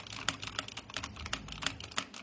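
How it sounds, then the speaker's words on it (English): Keyboard typing picked up through AirPods, a fast irregular patter of crisp key clicks at moderate level with no voices. "This is what it sounds like with typing on a keyboard on the AirPods"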